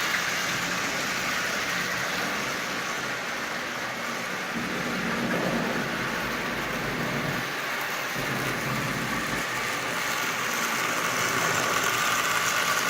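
A Marx Santa Fe 1095 Doodlebug toy locomotive runs steadily, pulling twelve Lionel cars, a continuous motor hum and rumble on the track with rain and a low thunder-like roll in the background, no one speaking.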